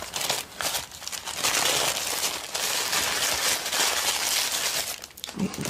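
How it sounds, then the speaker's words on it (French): Small candle being rewrapped in its thin paper, continuous close crinkling and crumpling with short pauses, soft but detailed, no talking. "Je vais remettre dans son petit papier."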